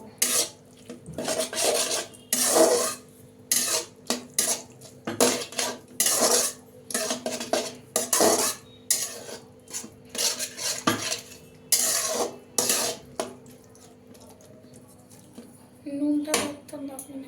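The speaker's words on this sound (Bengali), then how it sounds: "এটা করে মেশাবো।" A utensil mixes cauliflower paratha filling in a metal pan with the heat off, making loud, repeated scraping and clinking strokes in bursts with short pauses between them.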